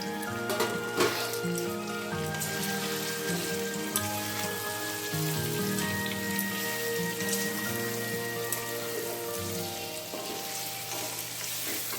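Pre-fried potatoes sizzle and crackle steadily in a hot pan of oil and spices for paneer coconut posto, a loud, continuous close frying hiss with faint stirring.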